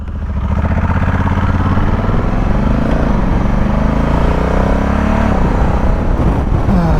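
A motorcycle engine runs loud and steady throughout, its pitch swelling and easing with revs, close by with no talking.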